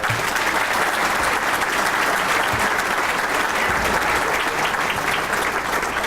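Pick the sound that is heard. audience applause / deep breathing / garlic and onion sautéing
audience applause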